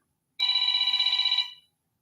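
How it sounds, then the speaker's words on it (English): A telephone rings in a home with a single bright, warbling ring burst lasting about a second, then stops, leaving silence. "My phone rings."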